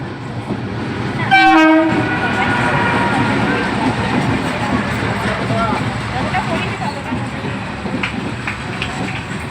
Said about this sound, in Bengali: চলে এসছে আমাদের ট্রেন বাবাজি